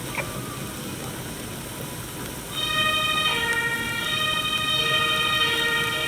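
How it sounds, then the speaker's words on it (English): An ambulance siren in a video game wails steadily over a constant background hiss, growing louder and clearer partway through, with no voices. "Send the ambulance back to finish the objective"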